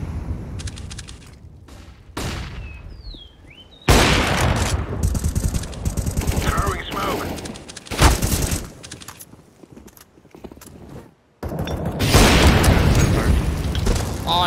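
Incendiary grenade in Counter-Strike: Global Offensive, bursting and burning amid heavy gunfire; loud, harsh stretches of noise alternate with brief quieter gaps, close and intense.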